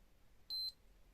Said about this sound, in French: J'entends un bip, c'est validé.